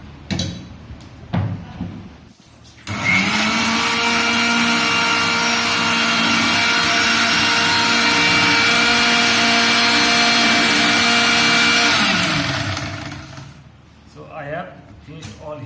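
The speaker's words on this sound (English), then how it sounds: "Now I will mix it in the mixer." A kitchen mixer blending aloe vera with lemon juice runs loud and steady for about nine seconds, then winds down, with handling clatter before and after.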